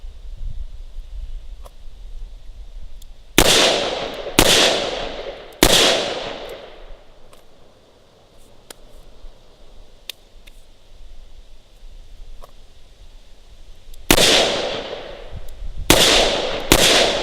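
Sharp, loud shots from a Smith & Wesson Model 66 Combat Magnum revolver, fired outdoors: three in quick succession, a long pause, then three more, each ringing out over a quiet background.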